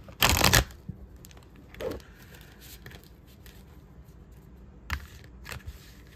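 Tarot cards shuffled by hand in a few quick bursts, a loud riffling flutter at the start, then softer scattered flicks and taps spread through a quiet room.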